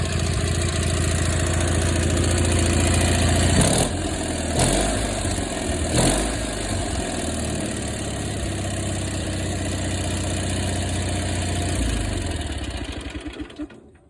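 A Cub Cadet 682 lawn tractor engine runs steadily close by, with a few sharp bumps and surges around the middle before the motor winds down and cuts off near the end.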